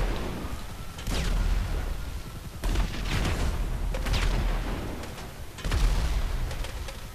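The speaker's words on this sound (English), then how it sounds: "Those explosions by the tank are getting closer." Tank explosions in GTA V Online, a string of deep booms and bursts at roughly one-second intervals over continuous rumbling combat noise, moderately loud.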